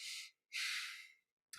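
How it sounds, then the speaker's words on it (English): Breathwork mouth breathing: two long, airy breaths drawn in and pushed out close to the ear, separated by silence, with the start of another breath at the end. "I want you to try to do the mouth breathing"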